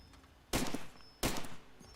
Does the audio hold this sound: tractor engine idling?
no